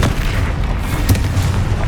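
A deep, continuous booming rumble from Confringo and Bombarda spell explosions in Hogwarts Legacy, loud and dense with a slight extra thump partway through.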